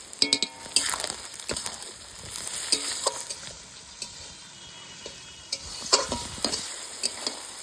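Chopped tomato and onion fry with salt in a pan, sizzling steadily while a spatula stirs with repeated scraping strokes and light clinks against the metal, close and fairly loud.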